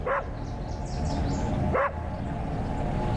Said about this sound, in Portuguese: Por que esse cachorro não para de latir?